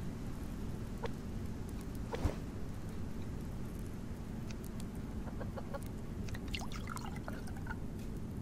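Over a steady low outdoor drone in the survival game Subsistence, a chicken clucks intermittently in short quiet bursts, with a few faint drip-like ticks scattered through.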